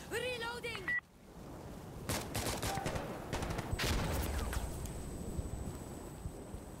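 AK rifle fire in the game Insurgency, a few sharp distant bursts of shots and a brief rattling volley amid wind-like noise, fairly faint overall.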